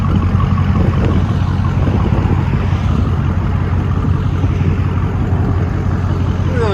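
A straight-piped 2021 Dodge Charger SRT Hellcat idles close by, its deep, loud rumble steady and continuous with a throbbing low-end pulse and no talk over it.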